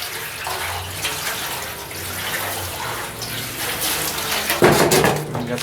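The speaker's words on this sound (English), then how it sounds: "Maybe I'll give her some more sloshing" Liquid liner sloshes inside a Ford 2N tractor fuel tank, a continuous watery swishing that ends in a louder splashing burst near the close.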